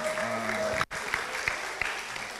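Audience applause at a campus communication laboratory presentation, steady clapping that breaks off briefly and then resumes at moderate volume.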